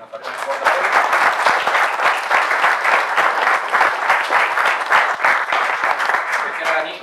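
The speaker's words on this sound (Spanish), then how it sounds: "quería pedirles un fuerte aplauso" Sustained applause from a crowd at a JavaScript meetup, dense clapping that stays loud and steady throughout without pause.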